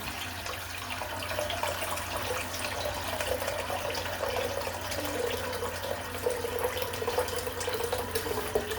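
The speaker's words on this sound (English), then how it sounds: "Fill the sink back up." Water runs steadily from a tap into a bathroom sink during a head shave, a continuous close splashing rush lasting throughout with no talking.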